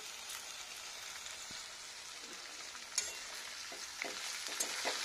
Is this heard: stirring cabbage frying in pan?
yes